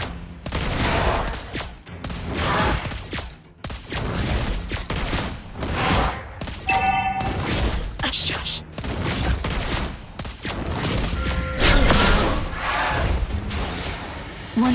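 Rapid bursts of gunfire from a shooting video game fill the stretch, dense volleys and single shots crowding one another over a busy game soundtrack, with a voice speaking briefly among the shots.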